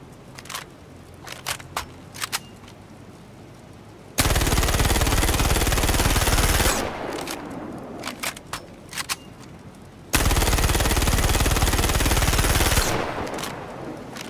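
Automatic gunfire in Star Citizen comes in two long, loud sustained bursts, each a few seconds, separated by quieter stretches of scattered clicks and short shots.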